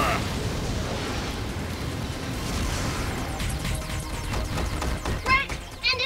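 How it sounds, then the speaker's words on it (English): A cartoon dinosaur robot unleashes a fire breath attack, a sustained roaring rush of flame and crackling bursts that swells and pops toward the end, with voices shouting around it. "Fire breath!"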